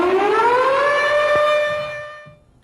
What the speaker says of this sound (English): Listen for sirens.